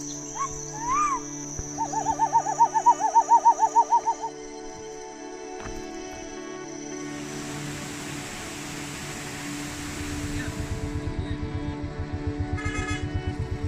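Birds call in rural hills near Nainital, India, with a low owl-like hooting repeated in a steady series early on, then a faint rapid pulsing call later over a quiet, hissy background.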